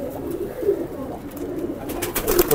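Indian highflyer pigeons coo in soft, low, repeated phrases throughout a loft, steady and fairly close, with no talk.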